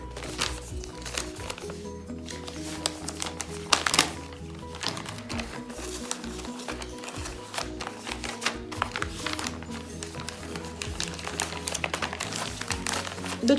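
A cross-stitch embroidery kit package is opened close up, its plastic wrapping crinkling and tapping in irregular bursts over a faint low background tone.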